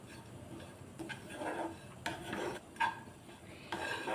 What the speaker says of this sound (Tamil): இப்போ இந்த தேங்காயையும் ஒரு பச்சை வாசனை போகிற அளவுக்கு நம்ம அதை வதக்கி எடுத்துக்கலாம்